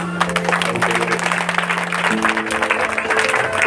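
A congregation at a Hindi-language church sermon claps steadily and densely throughout, a loud continuous patter with a sustained low tone underneath and no speech.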